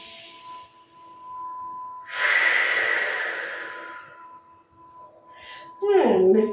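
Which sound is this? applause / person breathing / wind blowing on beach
person breathing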